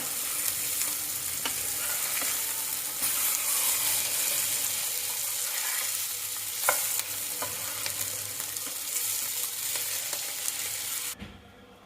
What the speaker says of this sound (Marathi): आता स्ट्रेट कंदीर भाजा.